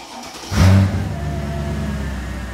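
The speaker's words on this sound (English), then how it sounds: "All right, so we're going to fire up the car now." A Mercedes CLK55 AMG engine with a custom exhaust cranks and fires with a loud burst, then settles into a deep, rumbling idle that carries on steadily, sounding close and enclosed.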